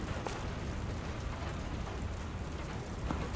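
Steady rain falls outside in The Wailer video game, a dense even hiss with faint scattered drops, soft and continuous throughout with no voices.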